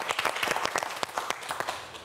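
A studio audience on a quiz show applauds a contestant, giving a short burst of dense, fairly close clapping.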